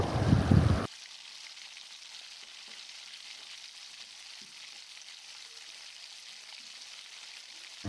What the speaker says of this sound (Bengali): একটা একটা করে চাল কুমড়ো এখন ছেড়ে দেব। আস্তে আস্তে ধিমি আঁচে এগুলোকে লাল লাল করে এখন ভেজে নেব